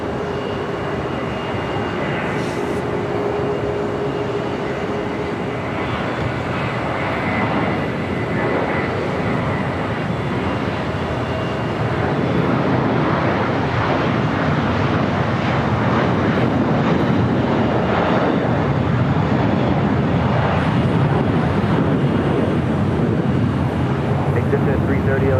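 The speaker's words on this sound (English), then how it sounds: "Qatar Airways Flight 739 coming up from Doha at A350 1000" A Qatar Airways Airbus A350-1000 arriving at LAX gives a steady, broad jet roar that swells slightly in its second half, heard continuously from a distance with a voice talking over it.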